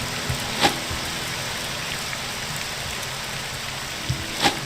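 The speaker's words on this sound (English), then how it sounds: "2 o'clock in the morning. It's downpour." Heavy nighttime downpour in the game Morrowind makes a steady, dense hiss of rain, broken by a couple of faint thumps.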